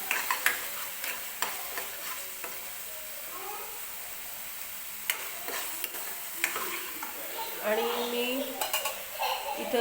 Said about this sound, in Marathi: टोमॅटो पण छान असं भाजून घेत आहे आपल्याला तेलामध्ये परतून घ्यायचं